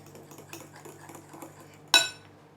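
Chicken marinade with black pepper and oil mixed in a bowl: soft, muffled stirring and scraping sounds, then one sharp metallic clink of utensil against the dish near the end.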